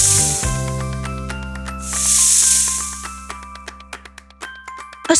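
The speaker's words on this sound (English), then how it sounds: "A snake." A snake hisses in two long, loud breathy bursts, with a steady low hum and a run of sharp clicks between and after them, no voices present.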